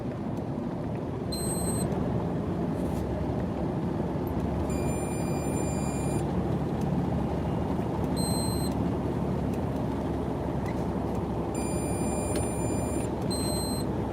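Short electronic beeps from a truck's collision avoidance system sound in clusters every few seconds over a constant road rumble from inside the moving truck in Utah canyon country.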